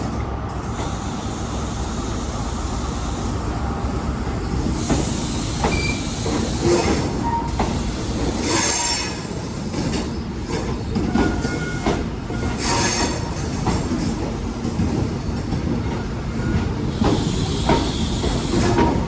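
HST train 43239 rolling past close by, a loud continuous rumble with clattering wheels and intermittent high metallic squeals.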